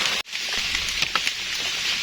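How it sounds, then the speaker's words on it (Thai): Rain falls steadily through a forest during mushroom gathering, a dense even hiss of drops with a brief dropout near the start, close and continuous with no talk. "ฝนมาอีกแล้วพี่น้องบัดนี้"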